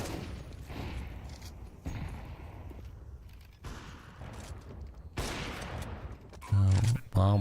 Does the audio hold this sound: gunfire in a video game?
yes